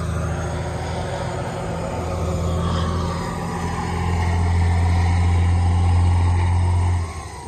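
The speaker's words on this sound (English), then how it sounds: "loud trucks, sorry, I live on a highway" Loud trucks pass on a nearby highway, a steady broad engine and tire roar that swells louder toward the end before cutting off, with no voices.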